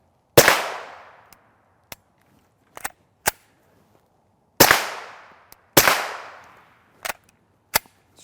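Suppressed FN Five-seveN MRD pistol fired through a direct-thread Yankee Hill R9 suppressor: two sharp, loud reports spaced apart, each with a short tail, followed by lighter metallic clicks and clacks from a sluggishly cycling action.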